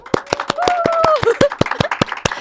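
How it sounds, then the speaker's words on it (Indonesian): A small team claps in a steady rhythm for a guest lecturer in a podcast studio, about a dozen crisp, close claps while voices cheer and talk over them. "Buat tim kita tepuk tangan dulu nih"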